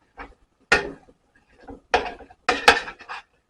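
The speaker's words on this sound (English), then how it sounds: "Just give it a nice stir." Meat being stirred in a pot over a layer of rendering fat, giving a few separate scraping, clattering strokes with short pauses between them, close and moderately loud with no voices.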